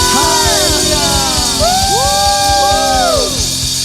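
Church congregation at a worship service loudly shouting and whooping hallelujah together, a dense, sustained roar of many overlapping voices with rising and falling yells throughout.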